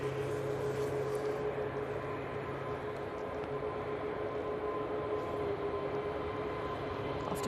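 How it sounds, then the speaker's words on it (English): An EasyJet airliner on its takeoff roll at Manchester Airport gives a steady, loud engine roar with a sustained droning tone that holds evenly throughout, heard from a distance. "EasyJet on the roll."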